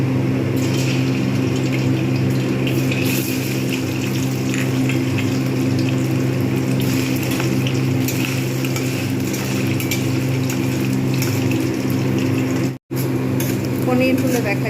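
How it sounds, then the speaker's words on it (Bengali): Paneer pieces fry in hot mustard oil in a pan, giving a loud, steady, close sizzle throughout, with faint kitchen clinks and a voice underneath. "পনিরগুলো দেখা যাচ্ছে ভালো লালচে করে ভেজে নিয়েছি।"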